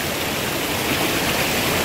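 A mountain stream in the French Alps rushes steadily over rocks, a continuous, close, loud broadband wash of water with no talking.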